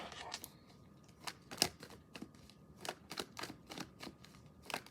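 A deck of tarot cards being shuffled by hand, with repeated crisp riffling bursts and soft slaps arriving in an irregular rhythm, close and fairly quiet, with no voices.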